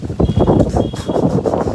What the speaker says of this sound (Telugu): చెట్లు గాలి బాగా వస్తుంది.